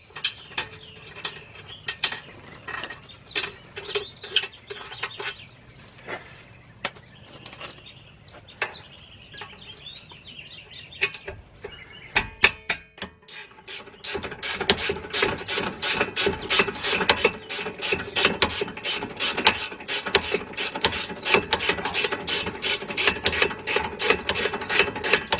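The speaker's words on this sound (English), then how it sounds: "I got another speed wrench. Makes it a lot easier for me. Get those two out of there." Speed wrench spun by hand to back out rear brake bolts on a 2011 Nissan Quest, a rapid series of sharp ratcheting clicks, sparse at first then a dense steady run in the second half, close and fairly quiet.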